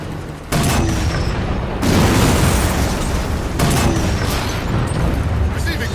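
Enemy contacts in Halo 4 keep up sustained, dense gunfire and explosive blasts, loud and continuous with a couple of sharper booms standing out across the whole stretch.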